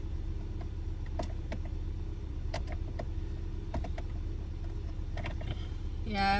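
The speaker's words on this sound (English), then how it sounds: "Just waiting for the car to warm up." A parked car idling as its engine warms up, a steady low rumble under faint clicks and ticks, with a brief rising whine near the end.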